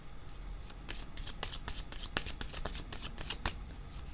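A deck of tarot cards is shuffled by hand, with rapid riffling flutters and soft slaps repeating in quick bursts, close and fairly quiet with no voice over it.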